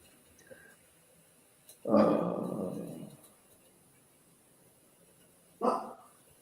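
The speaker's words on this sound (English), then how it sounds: "One of my dogs out here barking" A dog outside barks, one heavy, drawn-out bark followed a few seconds later by a shorter one, both fairly near and loud against a quiet room.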